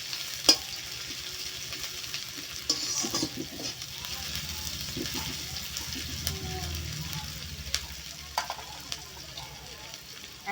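Onion frying in a pan for chowmein, a low steady sizzle with occasional stirring scrapes and small clinks throughout.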